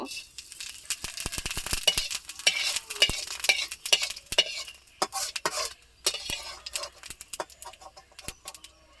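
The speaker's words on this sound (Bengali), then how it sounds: "তেলটা গরম হয়ে গিয়েছে, এবার অল্প পরিমাণে জিরা দিয়ে দিব।" Cumin seeds crackle and sizzle in hot oil in a wok for a fish-fat curry, a dense, steady hiss broken by sharp utensil clicks and stirring rattles, fairly close and continuous throughout.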